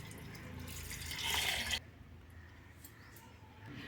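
Water poured into a pot of rice and fresh cow's milk, a soft, fairly faint splash that builds for about two seconds and then stops abruptly, leaving a quiet room.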